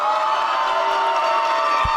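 A crowd at a fitness competition cheers and shouts continuously for a competitor, a dense, loud roar of voices and whoops filling the whole moment.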